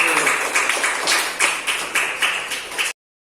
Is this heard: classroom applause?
yes